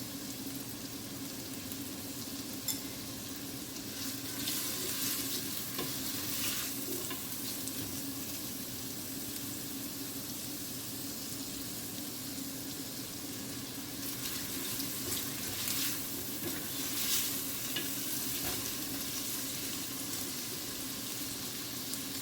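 Garlic and rice sizzle in a pot for Dominican moro con pollo, a steady, close frying hiss with soft stirring scrapes running throughout.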